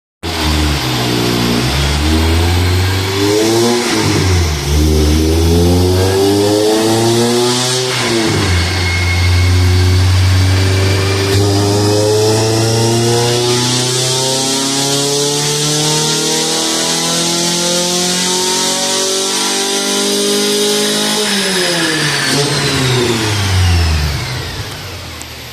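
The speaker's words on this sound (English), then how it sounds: "So we're gonna do another pull, see if she gains anything" A car engine on a chassis dyno, rear O2 sensor unplugged, blips through a few quick revs, then winds up in one long loud pull that climbs steadily for over ten seconds before the throttle drops and it spins down.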